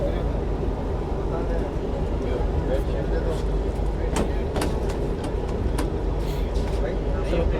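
Night train travelling through India's Rajasthan, a steady loud rumble of the carriage in motion with occasional clanks and squeaks, while people talk over it.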